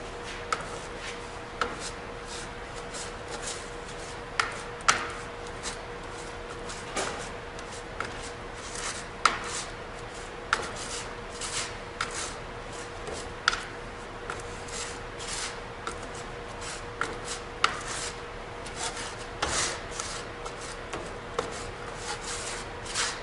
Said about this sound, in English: So mixing the sand in.